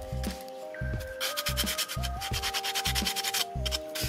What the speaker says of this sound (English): So now we're just gonna sand off the rough stuff.